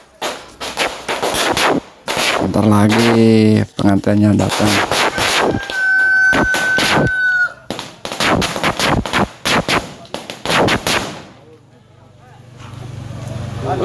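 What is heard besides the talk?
firecrackers exploding at a village wedding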